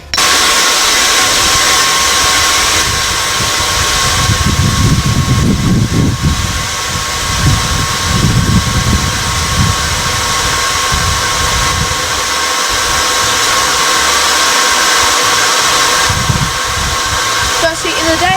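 A forge fire lit to heat steel for a shortsword roars with a loud, steady blower rush that runs throughout, with a rumbling low surge in the middle and some voice underneath.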